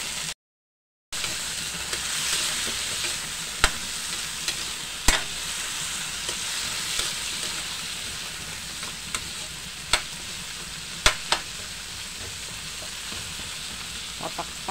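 Sweet potato and malunggay pods sautéed in a pan give a continuous close sizzle with sharp clinks of the spatula striking the pan at irregular intervals, and no one speaks.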